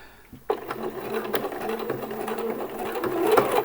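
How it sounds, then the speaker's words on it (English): A sewing machine top-stitches around a T-shirt neckband with the stitch width set to 2, starting abruptly after a short pause and then running in a fast, close, rhythmic rattle that builds slightly toward the end. "go around the neckband, top stitching that"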